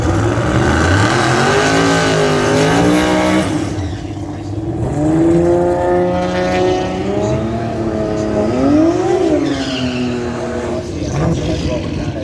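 A short-wheelbase drag racing car with a turbocharged 2JZ engine runs loud and close at a raceway, revving with rising and falling engine pitch over a constant roar, with people talking over it.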